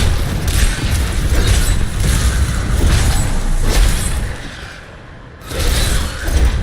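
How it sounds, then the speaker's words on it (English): Corpse explosion skill detonating piles of corpses in the Diablo III video game: loud, dense, rumbling booms that roll on almost continuously, with a brief dip before another heavy burst. "So my corpse explosion skill"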